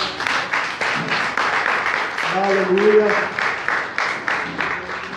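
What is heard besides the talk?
applause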